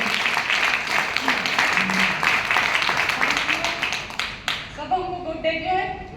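Audience applause at a Ranchi business gathering, a dense wash of clapping that fills the first four and a half seconds, then breaks off as a voice speaks over the thinning noise.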